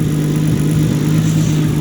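A Nissan S13 240SX with a turbocharged RB25DET engine, running slightly lean, idles close by, a loud and steady low rumble with a slight pulsing throb and no voices.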